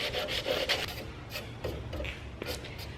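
Chalk paint on a metal cubby shelf is distressed by hand rubbing in short, scratchy strokes, a rasping sound that comes in uneven bursts with brief pauses between, close and fairly loud.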